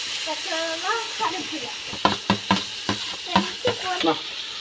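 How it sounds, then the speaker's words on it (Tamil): Green chillies and curry leaves hit frying country tomatoes for a village-style mutton curry, giving a steady close sizzle with a series of sharp stirring scrapes and spatters, while a voice talks briefly at the start. "தக்காளி வதங்கிட்டு பச்சை மிளகா கருவேப்பிலை போட போகிறோம்"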